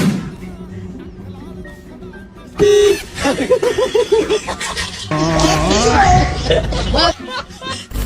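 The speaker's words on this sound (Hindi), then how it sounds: "कुछ ऐसे कार वाले होते हैं जो कि अपने हॉर्न का कुछ गजब ही इस्तेमाल करते हैं" A loud car horn blares in short honks amid busy street noise and nearby voices.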